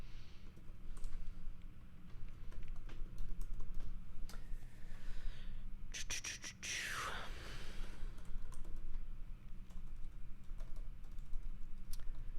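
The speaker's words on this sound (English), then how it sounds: "Typing is hard." Typing on a computer keyboard during a livestreamed coding session, with steady clusters of close, crisp key clicks and brief pauses over faint background hum.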